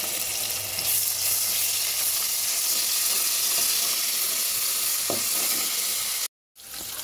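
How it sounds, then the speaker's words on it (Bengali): Chopped onions and garlic paste sizzle in soybean oil, a bright steady frying hiss with faint stirring scrapes, close and continuous apart from a brief cutout near the end, with no talking. "পেঁয়াজটা একটু লাল হয়ে আসলে তার মধ্যে আমি 1 চা চামচ রসুন বাটা দিয়ে দিব।"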